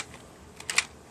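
Adjustable stock on an airsoft pump-action shotgun being slid and set, giving a couple of quick, close plastic clicks that end in a sharper final click.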